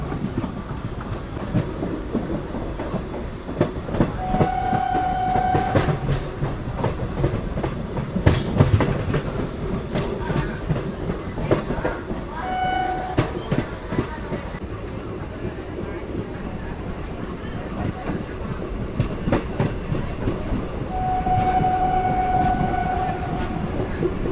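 A MEMU passenger train running from Tirupati to Tiruvannamalai, heard from inside as a continuous rumble with rhythmic wheel clatter, occasional squeals and brief tonal beeps over about twenty-four seconds.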